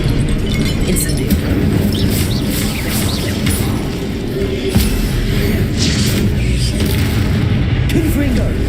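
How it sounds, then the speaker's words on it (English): Fire spells cast during combat in the Hogwarts Legacy game produce repeated deep booms and crackling bursts over a dense, loud battle soundscape, with a player voice calling out spells. "Incendio."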